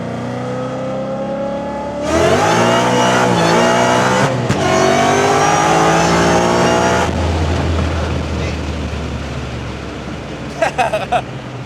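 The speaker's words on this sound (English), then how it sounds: "All right, we're gonna try second gear." A Ford Mustang accelerates hard in second gear, its engine note surging loudly and climbing in pitch, then easing off as the revs drop, with faint road noise and a few sharp clicks near the end.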